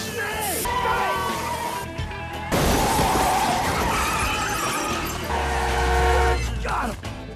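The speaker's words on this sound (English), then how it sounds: "a truck that later ends up crashing as a direct result" A truck crashes, its loud burst of shattering and skidding noise breaking in midway over engine rumble and sustained horn-like tones, with continuing clatter afterward.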